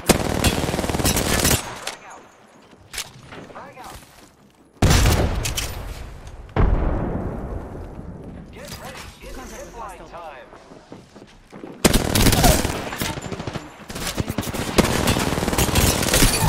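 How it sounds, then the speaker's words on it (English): Apex Legends gunfire on a Singapore server, loud bursts of rapid automatic shots in several clusters separated by quieter gaps, with voices talking throughout. "I am taking fire, friends."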